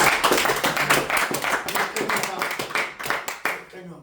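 A church congregation claps steadily and rhythmically to acclaim the Lord, the sharp hand claps running continuously beneath loud voices.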